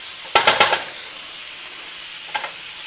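Food stirred in a pan of hot bacon grease: a quick run of four scraping, sizzling bursts, then quiet simmering and one fainter stir near the end, close and moderately loud.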